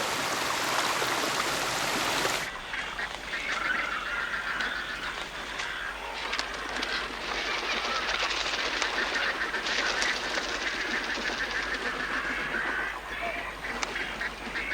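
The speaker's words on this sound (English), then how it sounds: "thousands of water birds join in a frenzy of feeding and breeding" Large flocks of water birds, geese and ducks among them, honk and quack in a dense continuous chorus while feeding and breeding in the Australian outback, with a stream running beneath and no talk.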